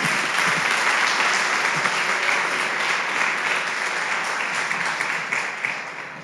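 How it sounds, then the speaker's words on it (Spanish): A church congregation applauds steadily throughout, a dense and sustained wash of clapping that holds loud before easing slightly at the end. "Dale fuerte ese aplauso"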